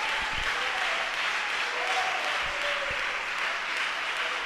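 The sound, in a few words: church congregation applause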